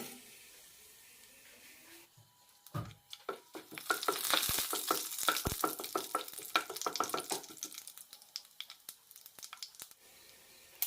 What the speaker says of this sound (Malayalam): എണ്ണ ചൂടായിട്ടുണ്ട് ഇതിലേക്ക് ബിരിയാണി മസാല ഇടാം